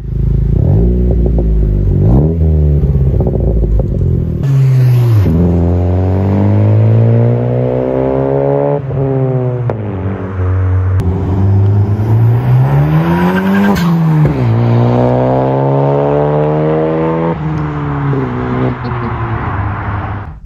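Honda Civic Type R engine revving loud and close while driving, with rising and falling pitch through gear changes and no talk over it.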